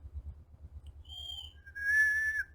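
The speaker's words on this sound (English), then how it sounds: "the highest pitch that you can make with your vocal organs is whistle" A person whistles two sustained high notes, the first brief and the second held longer and louder, over a steady low rhythmic rumble.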